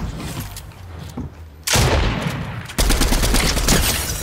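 Gunshots in a battle royale video game come as two loud, sustained bursts of rapid automatic fire, the second right after the first, following a quieter stretch with a few faint shots.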